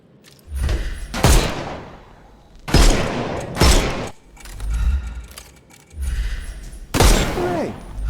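Gunfire shoots armour off enemies in a Sherlock Holmes video game: several loud clusters of shots and impacts in a broken rhythm, with a voice briefly present.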